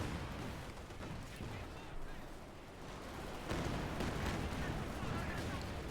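Company of Heroes 2 battle with Panzer IV tanks firing and artillery landing: dense, continuous rumbling blasts and crackling gunfire, swelling louder toward the end, beneath a caster's voice.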